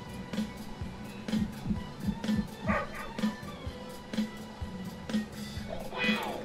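Cartoonish dog barks and yips ring out repeatedly from a dog-themed online slot game, popping up in quick bursts over a steady jingling game soundtrack.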